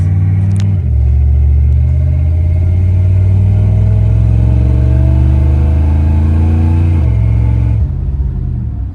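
A scrapyard Shelby truck with a 318 TBI engine accelerates hard, a loud, close, continuous engine roar whose pitch climbs steadily and then drops twice as it shifts near the end.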